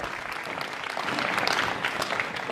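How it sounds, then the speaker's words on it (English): Dense audience applause for a professor at a talk, a steady wash of many hands clapping that swells slightly louder partway through and continues throughout. "Can we have a hand of applause for him?"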